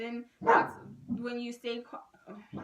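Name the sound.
dog barking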